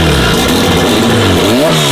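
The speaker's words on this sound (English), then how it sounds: "Exhaust straight out the turbo" A drift car engine with its exhaust dumping straight out of the turbo revs hard and close, its loud, raspy note climbing and falling out on a public road.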